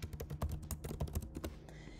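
Fingers type on a computer keyboard in a quick burst of close, crisp key clicks lasting under two seconds, then stop.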